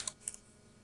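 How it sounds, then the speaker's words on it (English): Two quick keystrokes on a computer keyboard as a value is typed into a fractal program, crisp taps close by with quiet room tone between. "Or you can type in anything you want, like 3, or negative"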